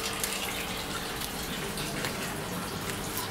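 Water running steadily through the sump and fish tank of a 500-litre aquaponics system, a continuous close splashing and trickling with no other sounds.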